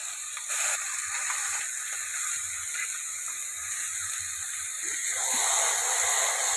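Chicken skin pieces frying in spiced oil, giving a steady, close hiss and sizzle with a thin high whine running through it. The sizzle brightens near the end, and no one speaks.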